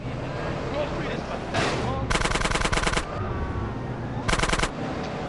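Bursts of rapid automatic gunfire in a video game ring out in two sharp volleys, loud and close over background game sounds and music.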